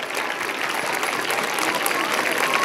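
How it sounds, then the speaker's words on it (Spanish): Steady applause from an audience at a primary school Holy Week event, dense continuous clapping filling the whole stretch at an even, fairly loud level. "un fuerte aplauso para ellos"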